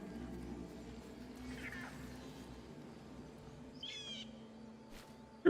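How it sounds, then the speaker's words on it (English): A bird calls in the game Baldur's Gate 3, a few faint chirps and a short trill over quiet ambient forest sound and a low background drone. "Oh, it's a bird, topaz."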